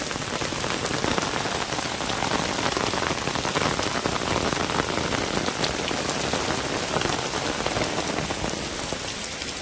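Heavy rain pours down steadily, a dense continuous hiss of drops striking surfaces, loud and unbroken throughout.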